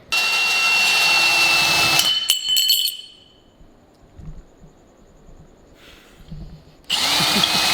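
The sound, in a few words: power drill drilling a hole with a bit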